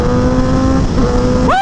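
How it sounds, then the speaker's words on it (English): A Honda CBR 1000RR sport motorcycle engine roars loud and close with a steady, throaty drone, then revs sharply upward in a quick blast near the end. "Look at that quick blast. Feels good, baby. The CBR 1000 double R."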